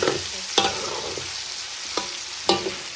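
Meat sauce for spaghetti sizzles in a pan as a spoon stirs it, giving a steady frying hiss with four distinct scraping knocks against the metal at irregular intervals.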